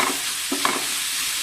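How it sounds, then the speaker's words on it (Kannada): Fresh dill leaves tossed into a hot pan with salt for a dill chitranna rice dish, giving a short steady sizzle with a couple of brief stirring scrapes, close and moderately loud. "ಈಗ ಸಬ್ಬಸಿಗೆ ಹಾಕ್ತೀನಿ."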